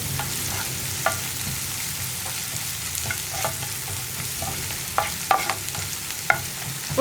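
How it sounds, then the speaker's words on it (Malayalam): Onions and curry leaves fry in hot oil in a pan and are stirred, a steady sizzle carrying on throughout with scattered sharp scrapes and clicks of the spoon against the pan. "ഉള്ളിയും കറിവേപ്പിലയൊക്കെ ഒന്ന് കുക്കായി വരുന്നത് വരെ ഒന്ന് ഇളക്കി കൊടുക്കുക."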